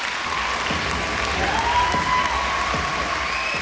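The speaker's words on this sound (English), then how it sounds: "Give her a big round of applause." A large audience applauds steadily at a public event, a dense, sustained wash of clapping filling the room at even loudness from start to finish with no speech over it.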